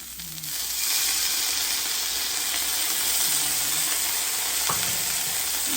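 Green beans with coconut, cilantro and lemon juice stirred in a hot pan, a steady close sizzle with occasional spatula scrapes and soft clicks, no talking.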